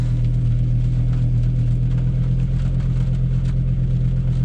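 A tuned Volvo S60R with a stage 2 tune and new injectors idles just after starting, a loud, steady low-pitched engine hum with an even, continuous rumble and no talk.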